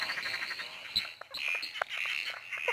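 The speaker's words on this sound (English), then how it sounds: "Look at this, the southern emerald spotted tree frog, and he's just been calling." A southern emerald spotted tree frog (Litoria tyleri) calls in short, bright bursts that repeat at uneven intervals, close and fairly faint, over a soft, steady background of night insects.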